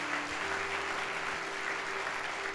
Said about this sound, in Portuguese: Se você concorda com isso, dê uma salva de palmas.